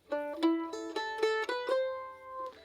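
Mandolin picking the opening measure of a jig, a quick run of bright plucked notes in a lilting rhythm, close and clear, ending on a ringing final note with no talking.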